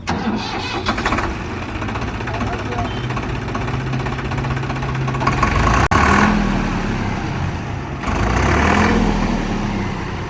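A Sonalika 750 tractor engine runs with a loud, steady mid-pitched rumble and a heavier surge near the end, heard up close with some voices in the background.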